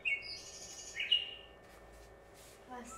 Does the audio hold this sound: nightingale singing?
yes